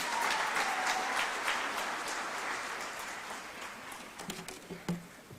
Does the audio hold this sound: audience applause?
yes